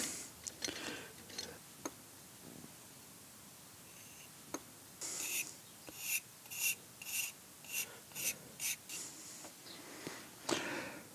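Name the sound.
pen nib drawing on lithography stone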